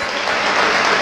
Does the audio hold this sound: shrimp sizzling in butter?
no